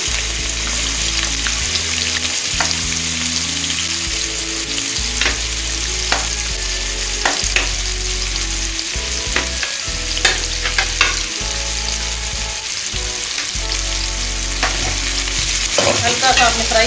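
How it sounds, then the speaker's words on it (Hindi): Carrots frying in about half a cup of oil for chicken rolls, a steady loud sizzle with occasional sharp spatter pops and utensil scrapes throughout, no voices. "हल्का सा आपने फ्राई करना है गाजर को"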